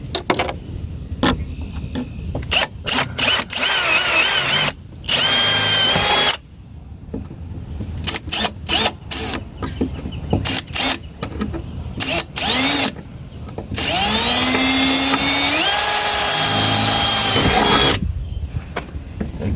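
Power drill boring holes through the rusted floor pan of a Mercedes G Wagon, loud close bursts of whining drill starting and stopping repeatedly, with some longer sustained runs.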